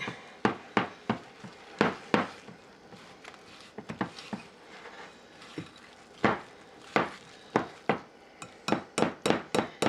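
A whisk works thick peanut butter and jelly thumbprint cookie dough in a bowl, giving sharp, irregular knocks and clinks against the bowl that speed into a rapid, even tapping run near the end, close and fairly quiet.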